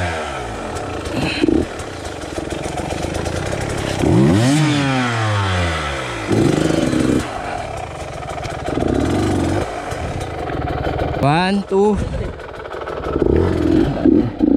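A light motorcycle revs hard on a hilly road near Floridablanca, engine note rising and falling in repeated sweeping bursts with clattery mechanical noise, loud and close, while people talk and shout over it.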